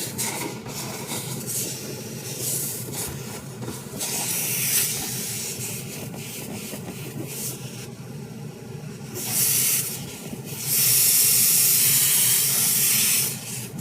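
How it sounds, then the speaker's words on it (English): A handheld steamer hisses while heating up old glue, a continuous airy spray that swells louder in bursts toward the end, with no talking. "So what I'm doing is I'm just using the steamer to heat up all the old glue."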